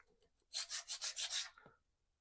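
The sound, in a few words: rubbing powder-coated clutch spring to smooth high spots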